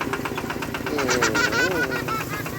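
A steady engine chugs with a regular knocking rhythm, close by, while a voice talks over it.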